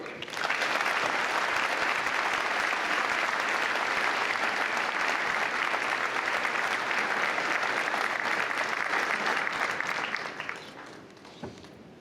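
A commencement audience gives sustained, dense applause for a Distinguished Alumni Service Award recipient, holding steady and loud for about ten seconds before tapering off quickly near the end.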